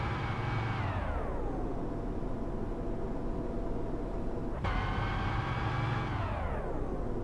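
A race car engine heard onboard during a lap at Lucas Oil Raceway, a loud, steady roar that drops in pitch, holds, then climbs sharply again as the car accelerates out of a turn, with constant wind noise throughout.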